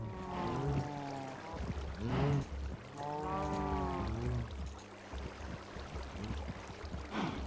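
Water flowing in Minecraft after being placed, a steady rushing wash running throughout at a moderate level, with background game music tones underneath.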